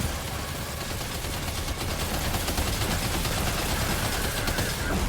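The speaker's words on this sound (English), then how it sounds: "Opening fire now." Sustained rapid gunfire in the video game Death Stranding 2, a dense unbroken barrage of shots at steady loudness for about five seconds with no talking.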